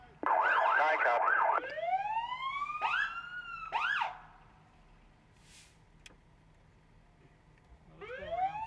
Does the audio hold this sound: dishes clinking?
no